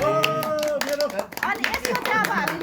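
An audience claps at a momo eating competition, with a scattered burst of hand claps mixed into lively crowd voices and talking throughout.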